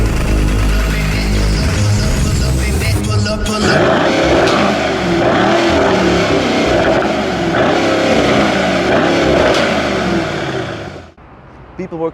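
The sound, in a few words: 2020 BMW M135i engine and exhaust revving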